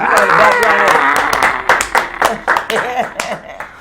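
An audience claps for guest Maria Davis, an activist and author. A steady wash of applause gives way to sparser individual claps, loud and close, with voices talking over it.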